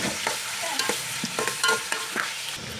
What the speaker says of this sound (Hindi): उसके बाद मैंने इस ऑयल में चिकन शामिल कर दिया और चिकन को अच्छे से फ्राई करें।